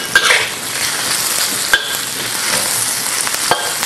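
Beef stir-frying in a wok for a dish with silky scrambled egg, a loud, dense sizzle with sharp scrapes and knocks of the spatula tossing the meat, close and without talking.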